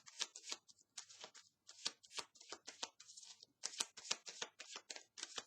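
Tarot cards shuffled by hand for a reading, making quick, crisp riffling and flicking bursts in an uneven rhythm, close and quiet with no talking.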